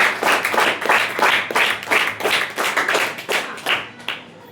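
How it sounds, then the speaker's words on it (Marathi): A classroom of students claps for a classmate during a history lesson, steady rhythmic hand claps close and loud for several seconds, no talk. "तिच्यासाठी सुद्धा जोरदार टाळ्या वाजवा"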